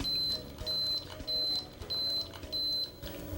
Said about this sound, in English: When it's finished brewing, the Cup-O-Matic will beep 5 times.